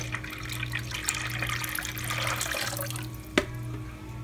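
KOH lye solution poured into warm soap base oils, a steady trickling liquid pour over a low hum, ending with a brief clink near the end.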